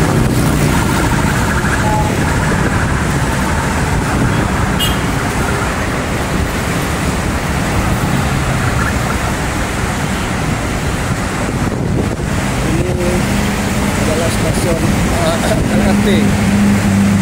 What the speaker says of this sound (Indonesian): Tol dan jalan arterinya masih macet ya.